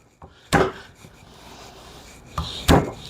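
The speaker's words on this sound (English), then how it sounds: "You don't want to crush it when you're doing this. You just want to loosen that skin." Garlic cloves pressed by hand to loosen the skin: a few sharp, close thumps and presses on a wooden board, with two main knocks separated by a quiet pause and no talk.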